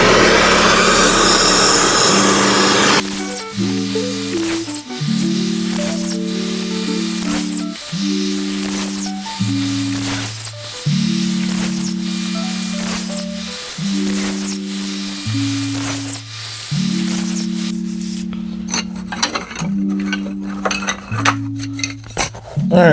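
A small saw chops through thin molding pieces in a steady series of short, loud cuts, each with a brief whining motor rise, after a burst of noise at the start and some clattering at the end.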